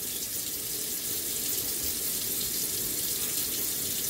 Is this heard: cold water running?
yes